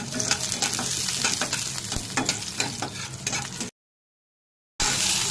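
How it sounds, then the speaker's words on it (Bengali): Black cumin seeds, dried red chilli, chopped garlic and onion fry in hot oil, giving a loud, steady crackling sizzle with spatula scrapes. It cuts to silence for about a second, then the sizzle resumes. "তেলের উপরে কালো জিরে ফোড়ন, শুকনো লঙ্কা আর কয়েক কুচি রসুন দিয়ে দিয়েছি।"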